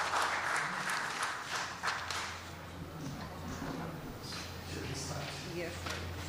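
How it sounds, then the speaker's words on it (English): Audience applause at an oncology summit, a steady wash of clapping from a crowd that stays loud across the whole stretch, with voices mixed in. "So big round of applause for you, sir."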